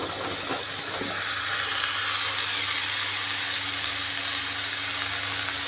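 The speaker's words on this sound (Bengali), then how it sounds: "কষানোর এই পর্যায়ে এসে দিয়ে দিচ্ছি কেটে রাখা ঝিঙ্গে" Chopped ridge gourd dropped into spice paste frying with gram flour, producing a loud, steady close sizzle and hiss that continues unbroken throughout.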